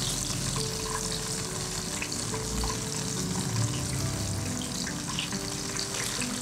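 Paneer popcorn deep frying in hot oil over a lowered flame, giving a steady dense bubbling sizzle that runs unbroken and close throughout, with no talking.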